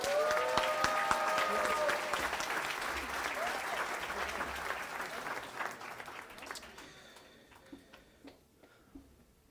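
Audience applause at an outdoor Southern California commencement ceremony for speaker David Prentice: a dense, steady round of clapping that slowly thins out, leaving a few scattered claps near the end.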